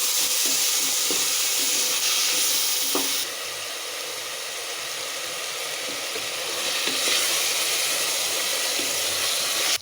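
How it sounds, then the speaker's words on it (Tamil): Onions and tomatoes fry in a pan for mint biryani, giving a steady loud sizzle with a few faint clinks of stirring and a brief dip in intensity midway. "வெங்காயம் தக்காளியெல்லாம் வணங்கிருச்சுங்க."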